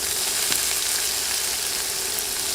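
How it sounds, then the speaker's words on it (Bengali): Three medium onions, sliced, frying with spices in oil for an okra dish, a constant close crackling sizzle with one sharp tap early on. "নেড়ে পেঁয়াজ নরম হয়ে আসা পর্যন্ত ভাজব"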